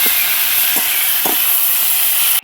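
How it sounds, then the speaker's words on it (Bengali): Ginger garlic paste fries in a pan while cooking an oyster dish, giving a steady, loud, close sizzling hiss that runs unbroken before cutting off abruptly at the end. "আদা রসুনটাকে দিয়ে 2-1 মিনিট মতো ভেজে নেব।"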